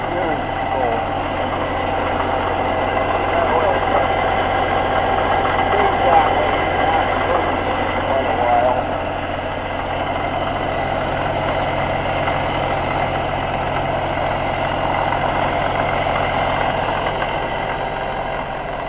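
A 1956 Caterpillar D6 9U bulldozer runs steadily nearby, its diesel engine giving a continuous loud, even rumble with no breaks.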